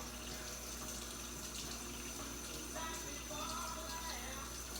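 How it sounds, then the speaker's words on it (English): Tap water runs steadily into a sink as lab glassware is rinsed during a red cabbage pH indicator experiment, a continuous close splashing hiss with a brighter burst of flow near the end, no talking. "I'm gonna rinse this one out."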